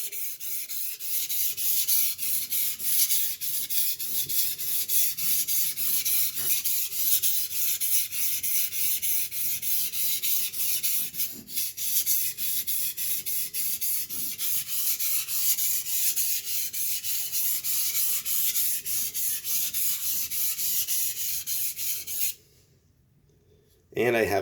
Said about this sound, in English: just push and pull, push and pull, push and pull until you have a burr